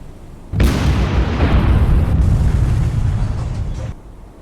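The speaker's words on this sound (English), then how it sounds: "We're still getting some nice explosions up front." Explosions aboard warships at sea in the naval combat game War on the Sea, a loud, dense roar that bursts in abruptly and rumbles on for several seconds before cutting off.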